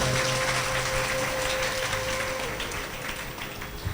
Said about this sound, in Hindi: तालियां जरूर बजाया करें।